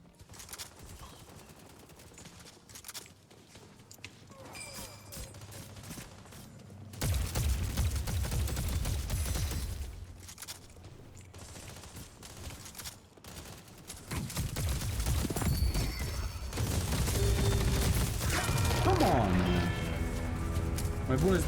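Rapid bursts of gunfire in the Deadlock video game, dense and repeated, growing heavier partway through amid a busy, cluttered mix of game effects.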